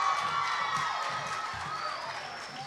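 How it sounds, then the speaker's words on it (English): A pageant audience cheers and applauds in a dense, continuous roar with shouts and whistles, steady and full throughout. "Let's give these girls another round of applause."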